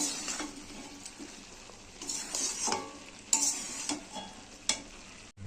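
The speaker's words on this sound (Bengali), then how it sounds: "আলুটা একটু নেড়ে নেবো।" Potatoes and tomatoes being stirred in a frying pan while making a cabbage curry with a fish head, with scraping strokes over a soft sizzle, close and fairly quiet, and a few sharper knocks of the utensil.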